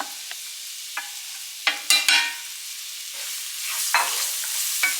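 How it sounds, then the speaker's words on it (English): Garlic, onion and chicken sautéing in a pot, a soft continuous sizzle broken by occasional sharp clinks and scrapes of a stirring utensil, close and without any talk. "so in the same pot we're sauteing the garlic and onion"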